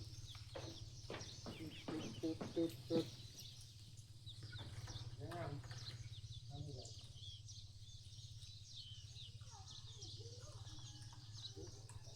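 Chickens cluck in short bursts on a rural Lao farm, a few sharp calls early on then softer scattered clucks over a steady low hum, with people talking nearby.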